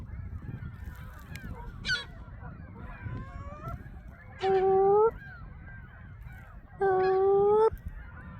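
Geese honk on a lake shoreline, two loud, drawn-out calls standing out close by over a murmur of softer chattering calls and low water or wind noise.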